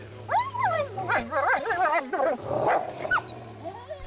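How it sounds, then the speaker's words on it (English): A frightened dog growling and whining close by, a loud, wavering, rising-and-falling vocal snarl lasting several seconds, with faint human voices underneath. "he's growling right now"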